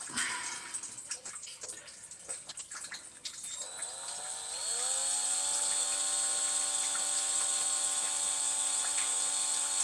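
A drill bit bores into a small workpiece on a workbench, the bit spun slowly by hand. Irregular scraping and clatter come first, then a steady high whine runs loud and close to the end.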